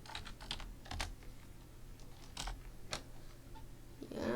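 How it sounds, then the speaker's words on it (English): Keys on a computer keyboard clatter in short, irregular bursts of clicks at close range, with pauses between keystrokes and no voices. "So yeah, I'm just typing something"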